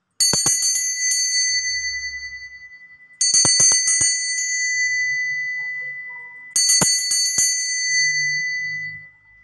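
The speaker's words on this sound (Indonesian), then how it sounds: "kita akan lanjut dengan tanda lonceng berbunyi" A bright metallic bell rings in three separate bursts of rapid strikes, each burst trailing off in a ringing decay, with quiet gaps between them.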